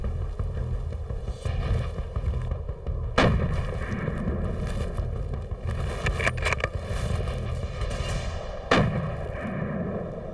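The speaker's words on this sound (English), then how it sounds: "I heard 2 shots, Randy." Rifle shots fired while hunting: two sharp reports about five seconds apart over a steady outdoor background rumble, moderately loud with a brief rolling echo after each.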